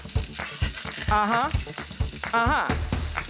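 Salmon fillets sizzle in a hot pan with steady crackling and spatter, plus a few clanks of a pan or utensil. A person talks in between.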